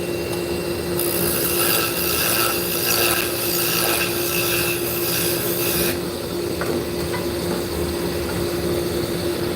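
A skew chisel cuts and shapes wood spinning on a lathe, giving a loud continuous rasping, scraping whine over the motor's steady hum; the cut grows harsher for several seconds, then eases back to a lighter scrape.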